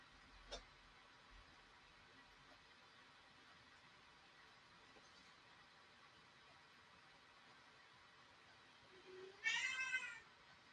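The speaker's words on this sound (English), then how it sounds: "Oh, hello, kitty." A house cat gives a single short meow, fairly close and clear, near the end of an otherwise quiet indoor stretch with faint background hiss and a small knock early on.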